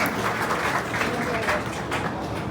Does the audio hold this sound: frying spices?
no